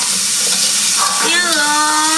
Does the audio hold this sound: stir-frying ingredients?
yes